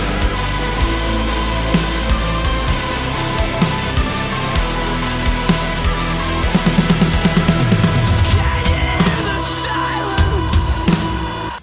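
Heavy metal-style drum kit from the Ultimate Heavy Drums 'Can You Feel My Snare' factory preset, played alone with punchy kick, cracking snare and fat tom fills, loud and dense throughout with cymbals washing over the top.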